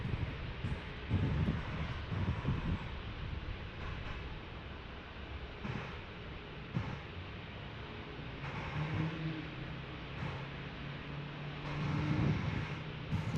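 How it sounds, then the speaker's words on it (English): United Boeing 737-800 airliner at a busy airport, its jet engine roar a steady broad rumble with surging swells, heard from a distance amid airport background noise. "So we got a 737-800 from United"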